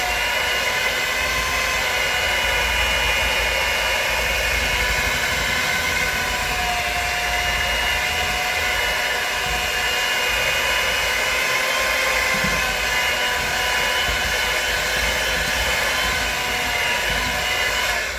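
An electric mixer beats eggs into cream cheese, a loud continuous motorized whir that holds steady and unbroken throughout, with no talking over it.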